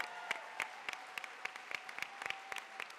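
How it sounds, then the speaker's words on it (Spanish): Sparse, scattered applause at a Spanish-language church panel session, with individual claps ringing out at irregular intervals at moderate distance, fairly quiet overall. "Un aplauso para ustedes."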